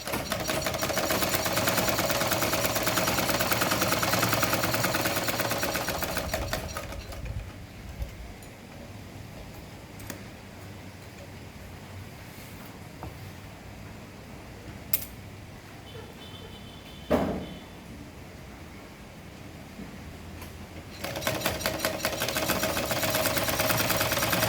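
Sewing machine stitching a denim tote bag runs steadily and fairly loud, stops for a long quiet pause with a faint click and a brief thump while the fabric is turned at a corner, then starts stitching again.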